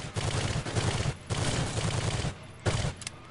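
Rapid automatic gunfire from the Soldier of Fortune II video game rattles in sustained bursts broken by short pauses, loud and close with no talking over it.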